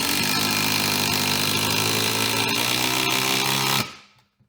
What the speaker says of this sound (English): Next up, the DCF 887. This is the 20 volt 1/4 inch impact driver.